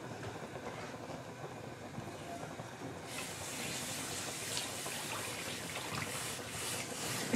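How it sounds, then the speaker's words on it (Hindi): Water poured into a hot pan of roasted flour for mutton paya curry, starting about halfway through as a steady rushing hiss over a low background rumble, fairly quiet throughout. "हम इसमें पानी डाल देंगे अभी।"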